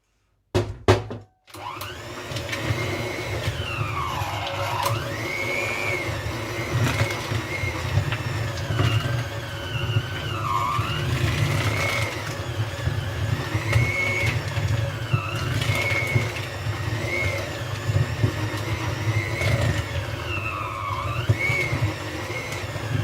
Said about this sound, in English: Now you can see my mixer. It really gets stuck in there.